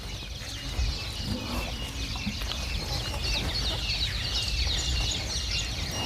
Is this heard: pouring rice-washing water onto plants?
no